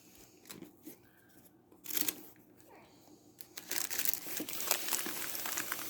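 Cardboard box of diamond painting supplies being opened up close, with crinkly rustling and crumpling of packaging that builds louder and denser toward the end, alone without talk.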